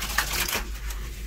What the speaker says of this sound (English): Okay, another shuffle.